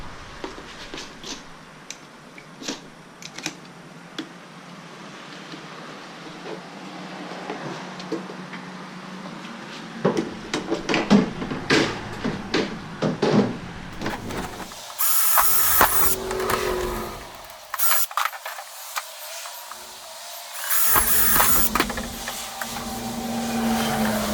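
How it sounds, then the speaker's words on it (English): Intermittent bursts of a power drill with a 3/8 inch bit whirring into PVC pipe, with short pauses and handling clicks between runs. "we can drill our holes on the bottom while we wait"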